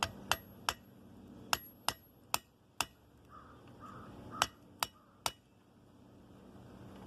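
A hammer strikes a chisel driven into slits cut in steel for spring tongs, about ten sharp ringing metallic blows at uneven intervals, close and loud with short decays between.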